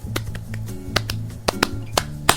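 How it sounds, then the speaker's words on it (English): A single person claps hands in a handful of sharp, uneven claps over soft background music. "Sorry, I started clapping and I got distracted."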